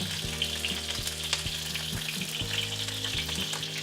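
Catfish pan frying in oil over medium heat, a continuous close crackling sizzle with faint spatters and a low steady hum underneath, no talking.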